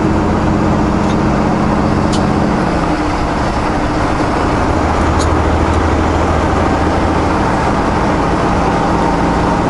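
Car engine held in a manual gear on a snowy drive in the Okanagan Valley, a steady loud low hum and road drone with no break, with a few faint ticks on top.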